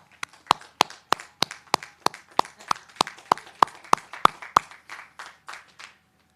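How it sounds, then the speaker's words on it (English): A small audience at a nursing graduation pinning ceremony claps in a slow, steady rhythm of distinct, evenly spaced claps, close and fairly loud, fading out near the end, with no speech. "Turn and face your families and give them a round of applause."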